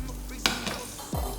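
Steady crackling sizzle from hot oil as pork fries in a wok for Singapore Hokkien mee, with a few sharp clattering stirs, loud and close.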